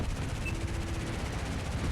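Rapid cannon fire in the jet combat game Metalstorm, a dense, continuous rattling burst of shots running steadily for two seconds at close range.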